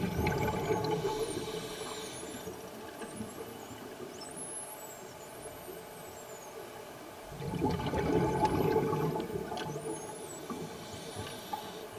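A large whale calls underwater during the sardine run, with faint high sweeping and whistling tones drifting over a steady underwater rumble and a louder wash of water noise.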